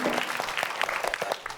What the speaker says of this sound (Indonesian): Beri tepuk tangan, yuk.